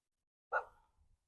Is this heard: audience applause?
no